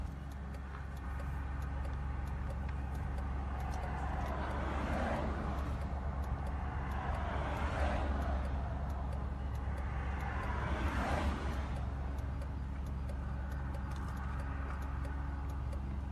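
Steady low rumble and tire hiss fill a car's interior while it drives on a highway, with passing vehicles swelling and fading outside several times, continuous and moderately loud, with no talk.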